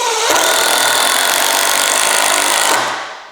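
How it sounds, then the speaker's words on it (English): A power drill drives a screw into wood while building an outboard motor stand, giving a loud, steady grinding whir for a few seconds before stopping abruptly. "I'm going to put a screw in right here."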